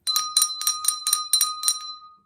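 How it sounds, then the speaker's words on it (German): An ice cream truck's hand bell rings in a quick, bright series of about seven evenly spaced strikes, loud and close, with no voices. "klingelt eine Glocke und jeder weiß, dass er da ist"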